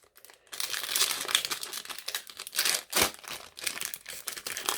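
Crinkly foil wrapper of a Pokémon card booster pack being handled and torn open close up, a continuous busy rustle with sharp crackling bursts, loud and alone without voices.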